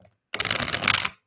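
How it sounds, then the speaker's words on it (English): A thick tarot card deck is riffled in one dense, crisp burst of rapid card flutter, close and loud, about a second long, with no voices. "this deck is so thick that I have to do it in like little miniature parts, the shuffling"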